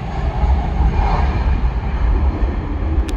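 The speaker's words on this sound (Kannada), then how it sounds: "ಏರ್ ಇಂಡಿಯಾ ನ್ಯೂ ಫ್ಲೈಟ್ ಇರಬೇಕು ಗೈಸ್" A new Air India airliner lands on a runway with a steady, loud engine roar and rumble, heard from outside with no voices.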